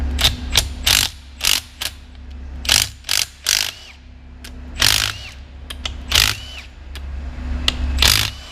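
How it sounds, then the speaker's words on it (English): A hand ratchet clicks in quick bursts while removing housing bolts on a John Deere 3650 tractor, close and crisp, with short pauses between runs of clicking over a low steady hum. "I'm going to take our bolts out now."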